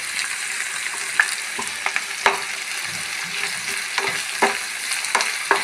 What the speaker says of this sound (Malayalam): നന്നായിട്ട് ഫ്രൈ ആവണം